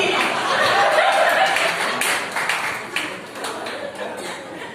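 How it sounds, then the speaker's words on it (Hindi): Audience clapping and light laughter at a Hindi stand-up comedy show, a dense, steady patter that fades somewhat toward the end. "जरा तालियां जोरदार होनी चाहिए।"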